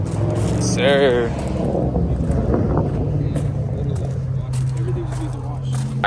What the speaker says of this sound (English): we're going through a car wash right now